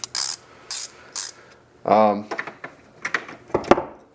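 Socket ratchet twisted back and forth to loosen and tighten, several close bursts of quick metallic clicking separated by brief gaps, with a voice speaking in the middle.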